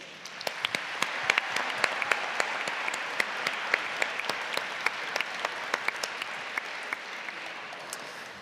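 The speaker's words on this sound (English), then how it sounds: "please give yourself a huge round of applause" A large audience at a GeMUN 2024 model UN opening ceremony breaks into sustained applause, dense continuous clapping with individual sharp claps standing out, filling the hall steadily for several seconds.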